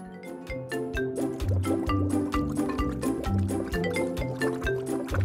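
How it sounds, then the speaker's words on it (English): Paint being poured into toy race cars, a series of gurgling, glugging liquid fills with bubbly pops in a steady rhythm, close and clear under light background music. "let's fill them up with paint"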